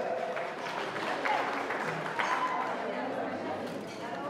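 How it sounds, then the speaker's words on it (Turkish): Wedding guests applaud the bride and groom with moderate, continuous clapping mixed with crowd chatter and voices, heard from a slight distance at steady, fairly soft volume. "bir güzel alkışlar olsun iki çiçeğe"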